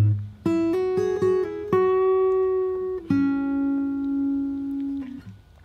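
Close fingerstyle guitar plays a short phrase from a song, plucked notes leading to a sustained note with a slight bend that rings out and fades, with no voices.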